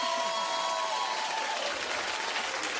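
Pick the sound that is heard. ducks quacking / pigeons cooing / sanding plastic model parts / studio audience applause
studio audience applause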